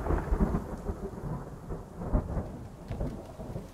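Rain and thunder in The Forest survival video game: a steady hiss of rainfall under deep, rolling thunder rumbles that swell and fade throughout, with no voices.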